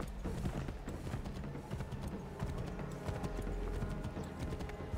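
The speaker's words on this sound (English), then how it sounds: "Don't know why my horse jumped right there" Horse hooves pound in a steady galloping clip-clop in Assassin's Creed 3, loud and continuous across the whole stretch with dense game ambience and occasional clatter beneath.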